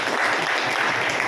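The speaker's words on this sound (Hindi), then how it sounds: "इनके लिए जोरदार हाथों से तालियों का सेवा" Loud, dense applause from an audience at a spiritual talk fills the whole moment, a steady wash of many hands clapping with no voice on top.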